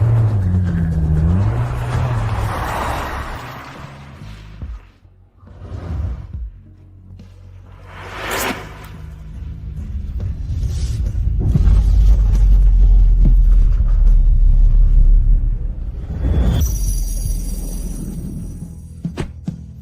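A car driving makes a steady low engine rumble with road noise that swells and fades, broken by a few brief knocks and shifts.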